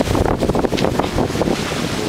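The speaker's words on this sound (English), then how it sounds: "Sailing right now." A sailboat with a 65-foot mast underway at sea, steady wind buffeting the microphone over a rushing wash of water, loud and continuous.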